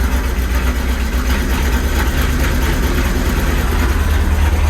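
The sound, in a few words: motorhome engine starting and idling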